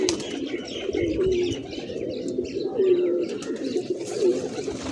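Low, rolling coos come from a trapped grey pigeon held close by, repeating at a steady rhythm over a busy bird-filled background.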